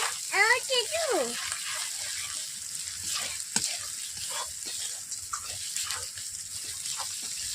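Ginger, garlic and spices sizzle steadily in a hot pan, with a brief voice at the start and occasional stirring clinks.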